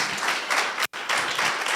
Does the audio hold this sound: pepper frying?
no